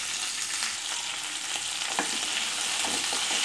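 Chopped capsicum fries in hot oil in a pan, a close, steady crackling sizzle with occasional louder spits as it is stirred, no voices over it.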